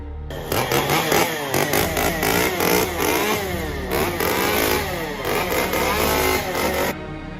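A chainsaw engine revving loudly and continuously, its pitch rising and falling in repeated surges, close by, at a Halloween haunted-house event at Busch Gardens Williamsburg.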